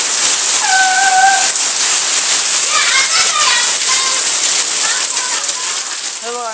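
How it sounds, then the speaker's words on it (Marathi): Heavy rain pours down steadily in Konkan, a dense loud hiss filling the whole scene, with a cat meowing and a person's voice heard faintly over it. "एवढा जोरजोरात पाऊस पडायला लागला."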